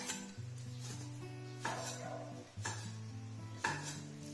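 Knife slicing pork on a cutting board for a Cantonese clay pot dish, a few distinct knocks about a second apart over a low background hum.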